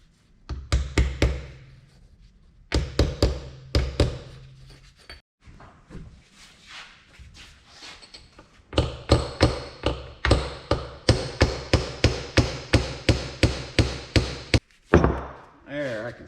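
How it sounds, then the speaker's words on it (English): Repeated hammer blows knock back a part on a White planter during prep work, sharp close metallic strikes in bursts, then a long rapid steady series near the end, with brief talk between. "Well, that didn't knock back too hard."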